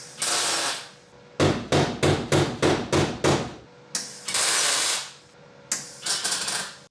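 A hammer strikes sheet metal being shaped to fit a car's transmission tunnel, a rapid run of about eight loud, ringing close blows followed by a few slower spaced hits, with no talking.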